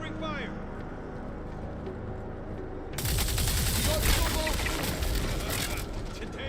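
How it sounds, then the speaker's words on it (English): Covering gunfire starts abruptly partway through as dense, continuous automatic fire, loud and close, over a steady mechanical hum. "Laying down covering fire."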